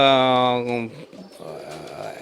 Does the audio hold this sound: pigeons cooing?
yes